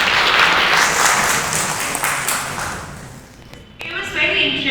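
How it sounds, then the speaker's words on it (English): Loud applause from a seminar audience on World Animal Day at a Delhi University law faculty, sustained and dense, fading toward the end before a brief swell, with voices mixed in. "Please, a big round of applause for all."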